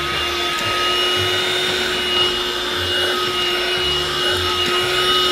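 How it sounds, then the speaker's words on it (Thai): A HOMU cordless UV dust mite vacuum cleaner runs steadily while cleaning car seats, giving a constant near motor whine with a hum that rises and falls as the nozzle rubs across the upholstery. "วันนี้ก็ใช้เครื่องดูดไรฝุ่นแบบนี้นะครับสามารถดูดเบาะภายในรถได้เลย"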